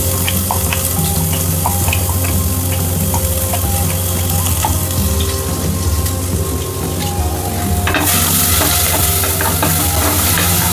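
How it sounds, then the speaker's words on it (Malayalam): Crushed ginger, garlic and green chili sauté in hot oil, a loud, steady crackling sizzle with scattered pops running throughout and growing brighter and denser toward the end, with no talking. "അതിലേക്ക് നമുക്ക് ഇഞ്ചിയും വെളുത്തുള്ളിയും പച്ചമുളകും ചതച്ചത് ഇട്ടൊന്ന് വഴറ്റിയെടുക്കാം."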